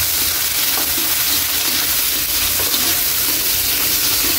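Ginger, garlic, tomato and onion sautéing together in a pan, cooking for sour santol sinigang: a steady, loud, continuous frying sizzle with occasional stirring scrapes, close and with no talking.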